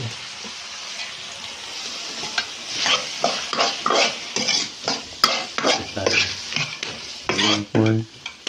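Potatoes fry and get stirred in a pan, a soft sizzle running under a series of scraping, clattering stirring strokes that grow more frequent and louder toward the end, with no talking.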